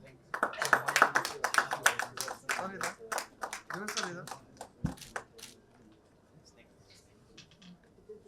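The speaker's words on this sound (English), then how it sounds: "Please kindly clap for her." An audience at a conference on resilient infrastructure claps for a speaker being introduced, a quick burst of many hands close by that swells and then thins to a few scattered claps before trailing off into quiet.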